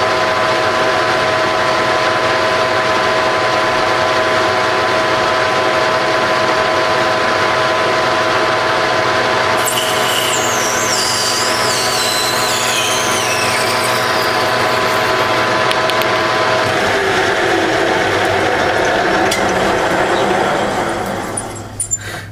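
A metal lathe parts off Delrin acetal suspension bushings with a part-off blade, a loud continuous machine drone with a steady tonal hum, a high chattering cutting squeal rising partway through before the motor winds down.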